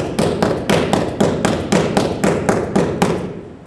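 Rapid speed hook punches on a heavy bag, a steady series of about a dozen close, loud thuds at an even quick rhythm.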